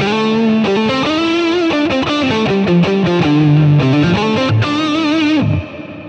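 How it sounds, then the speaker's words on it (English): An electric guitar plays a melodic phrase through a lush Strymon reverb effect, sustained notes ringing out and decaying at the end, loud and alone. "That's just a different reverb there on the Strymon."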